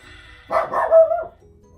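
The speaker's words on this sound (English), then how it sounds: "this dog is killing me" A dog gives one loud, close bark that stretches into a short whining yelp, then falls silent.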